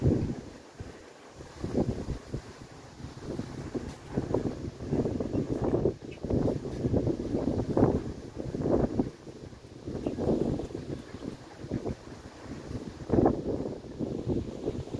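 Steady wind gusts on Mt. Pulag's Ambangeg trail roar and buffet the microphone in surging waves, loud and continuous throughout, with no one speaking.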